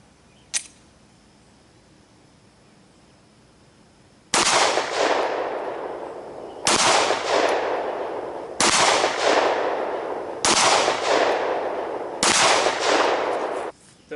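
A Glock pistol fires Winchester 9mm FMJ rounds at a shooting range: five loud, sharp shots spaced about two seconds apart, each trailing a long ringing decay, after a small click at the start.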